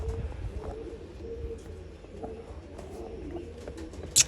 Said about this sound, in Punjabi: ਜਾਲ ਦੇ ਵਿੱਚ ਕਬੂਤਰ ਫਿਰਦੇ ਆ